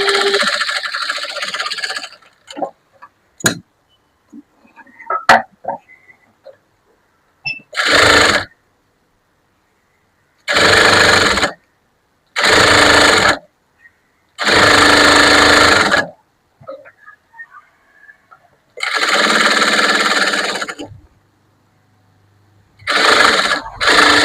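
Sewing machine stitching the lining of a puff sleeve, running in loud bursts of steady whirring several seconds long, separated by quiet pauses with small clicks and fabric handling.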